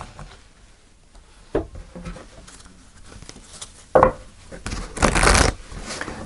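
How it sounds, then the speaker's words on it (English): Tarot cards are shuffled in several short, papery bursts separated by quieter pauses, close by, with the last burst the longest and loudest. "one more shuffle"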